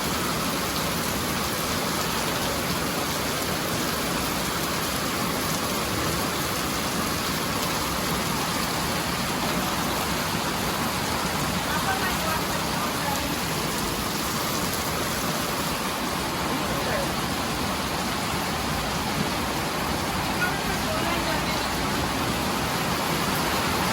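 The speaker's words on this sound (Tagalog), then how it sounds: "Lumakas agad ang ulan." A steady downpour of heavy rain hisses without pause, thick and constant throughout, with no one speaking.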